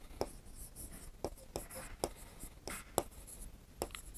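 Chalk or pen marks on a board or paper during a Class 6 maths lesson make soft scratchy strokes and taps in an irregular rhythm, faint and close, while a teacher talks.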